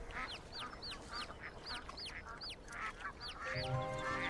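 Ducklings quack in a busy, repeated series of short calls that rise and fall close by, with a steady background wash beneath and a louder burst of noise near the end.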